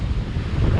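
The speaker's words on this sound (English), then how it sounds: "It's just that wind." A steady sea breeze buffets the microphone at Fowlers Bay on the coast, a loud, continuous low rumble of wind with surf-like roar and no voices.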